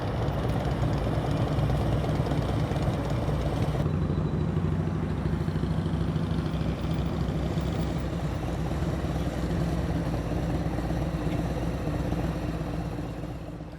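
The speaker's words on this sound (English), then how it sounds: "She's trying to stop the motorcycle and just put her left foot down." A motorcycle engine rumbles steadily and close as the rider downshifts and slows to a smooth stop, the drone easing slightly toward the end with no talk.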